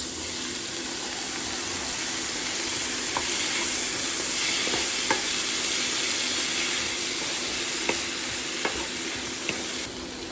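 Herbs and lentils stirred into a sizzling pan of vegetables for shepherd's pie, a steady close frying hiss broken by occasional scrapes and clicks of a spoon on the pan, with no talking.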